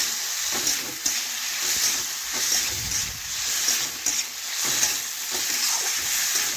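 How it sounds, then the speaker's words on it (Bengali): Papaya and salt sizzle steadily in a hot pan while being stirred, a continuous close frying hiss broken by periodic scraping strokes of the spoon. "লবণ নাড়াচাড়া করে ভালোভাবে মিশিয়ে নিচ্ছি"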